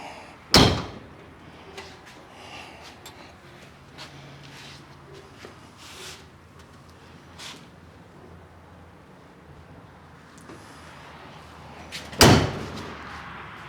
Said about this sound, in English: I think maybe the trunk is hitting